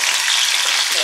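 Onions sauté in hot olive oil for a West African–style lamb shoulder and corned beef curry, making a loud, dense, unbroken hiss and crackle close up.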